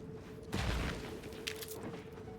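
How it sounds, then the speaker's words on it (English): Mortar fire in the video game The Outer Worlds 2: a sudden loud, heavy blast that rolls into a sustained rumbling crackle, with a sharper burst about a second later. "Mortar fire! Move!"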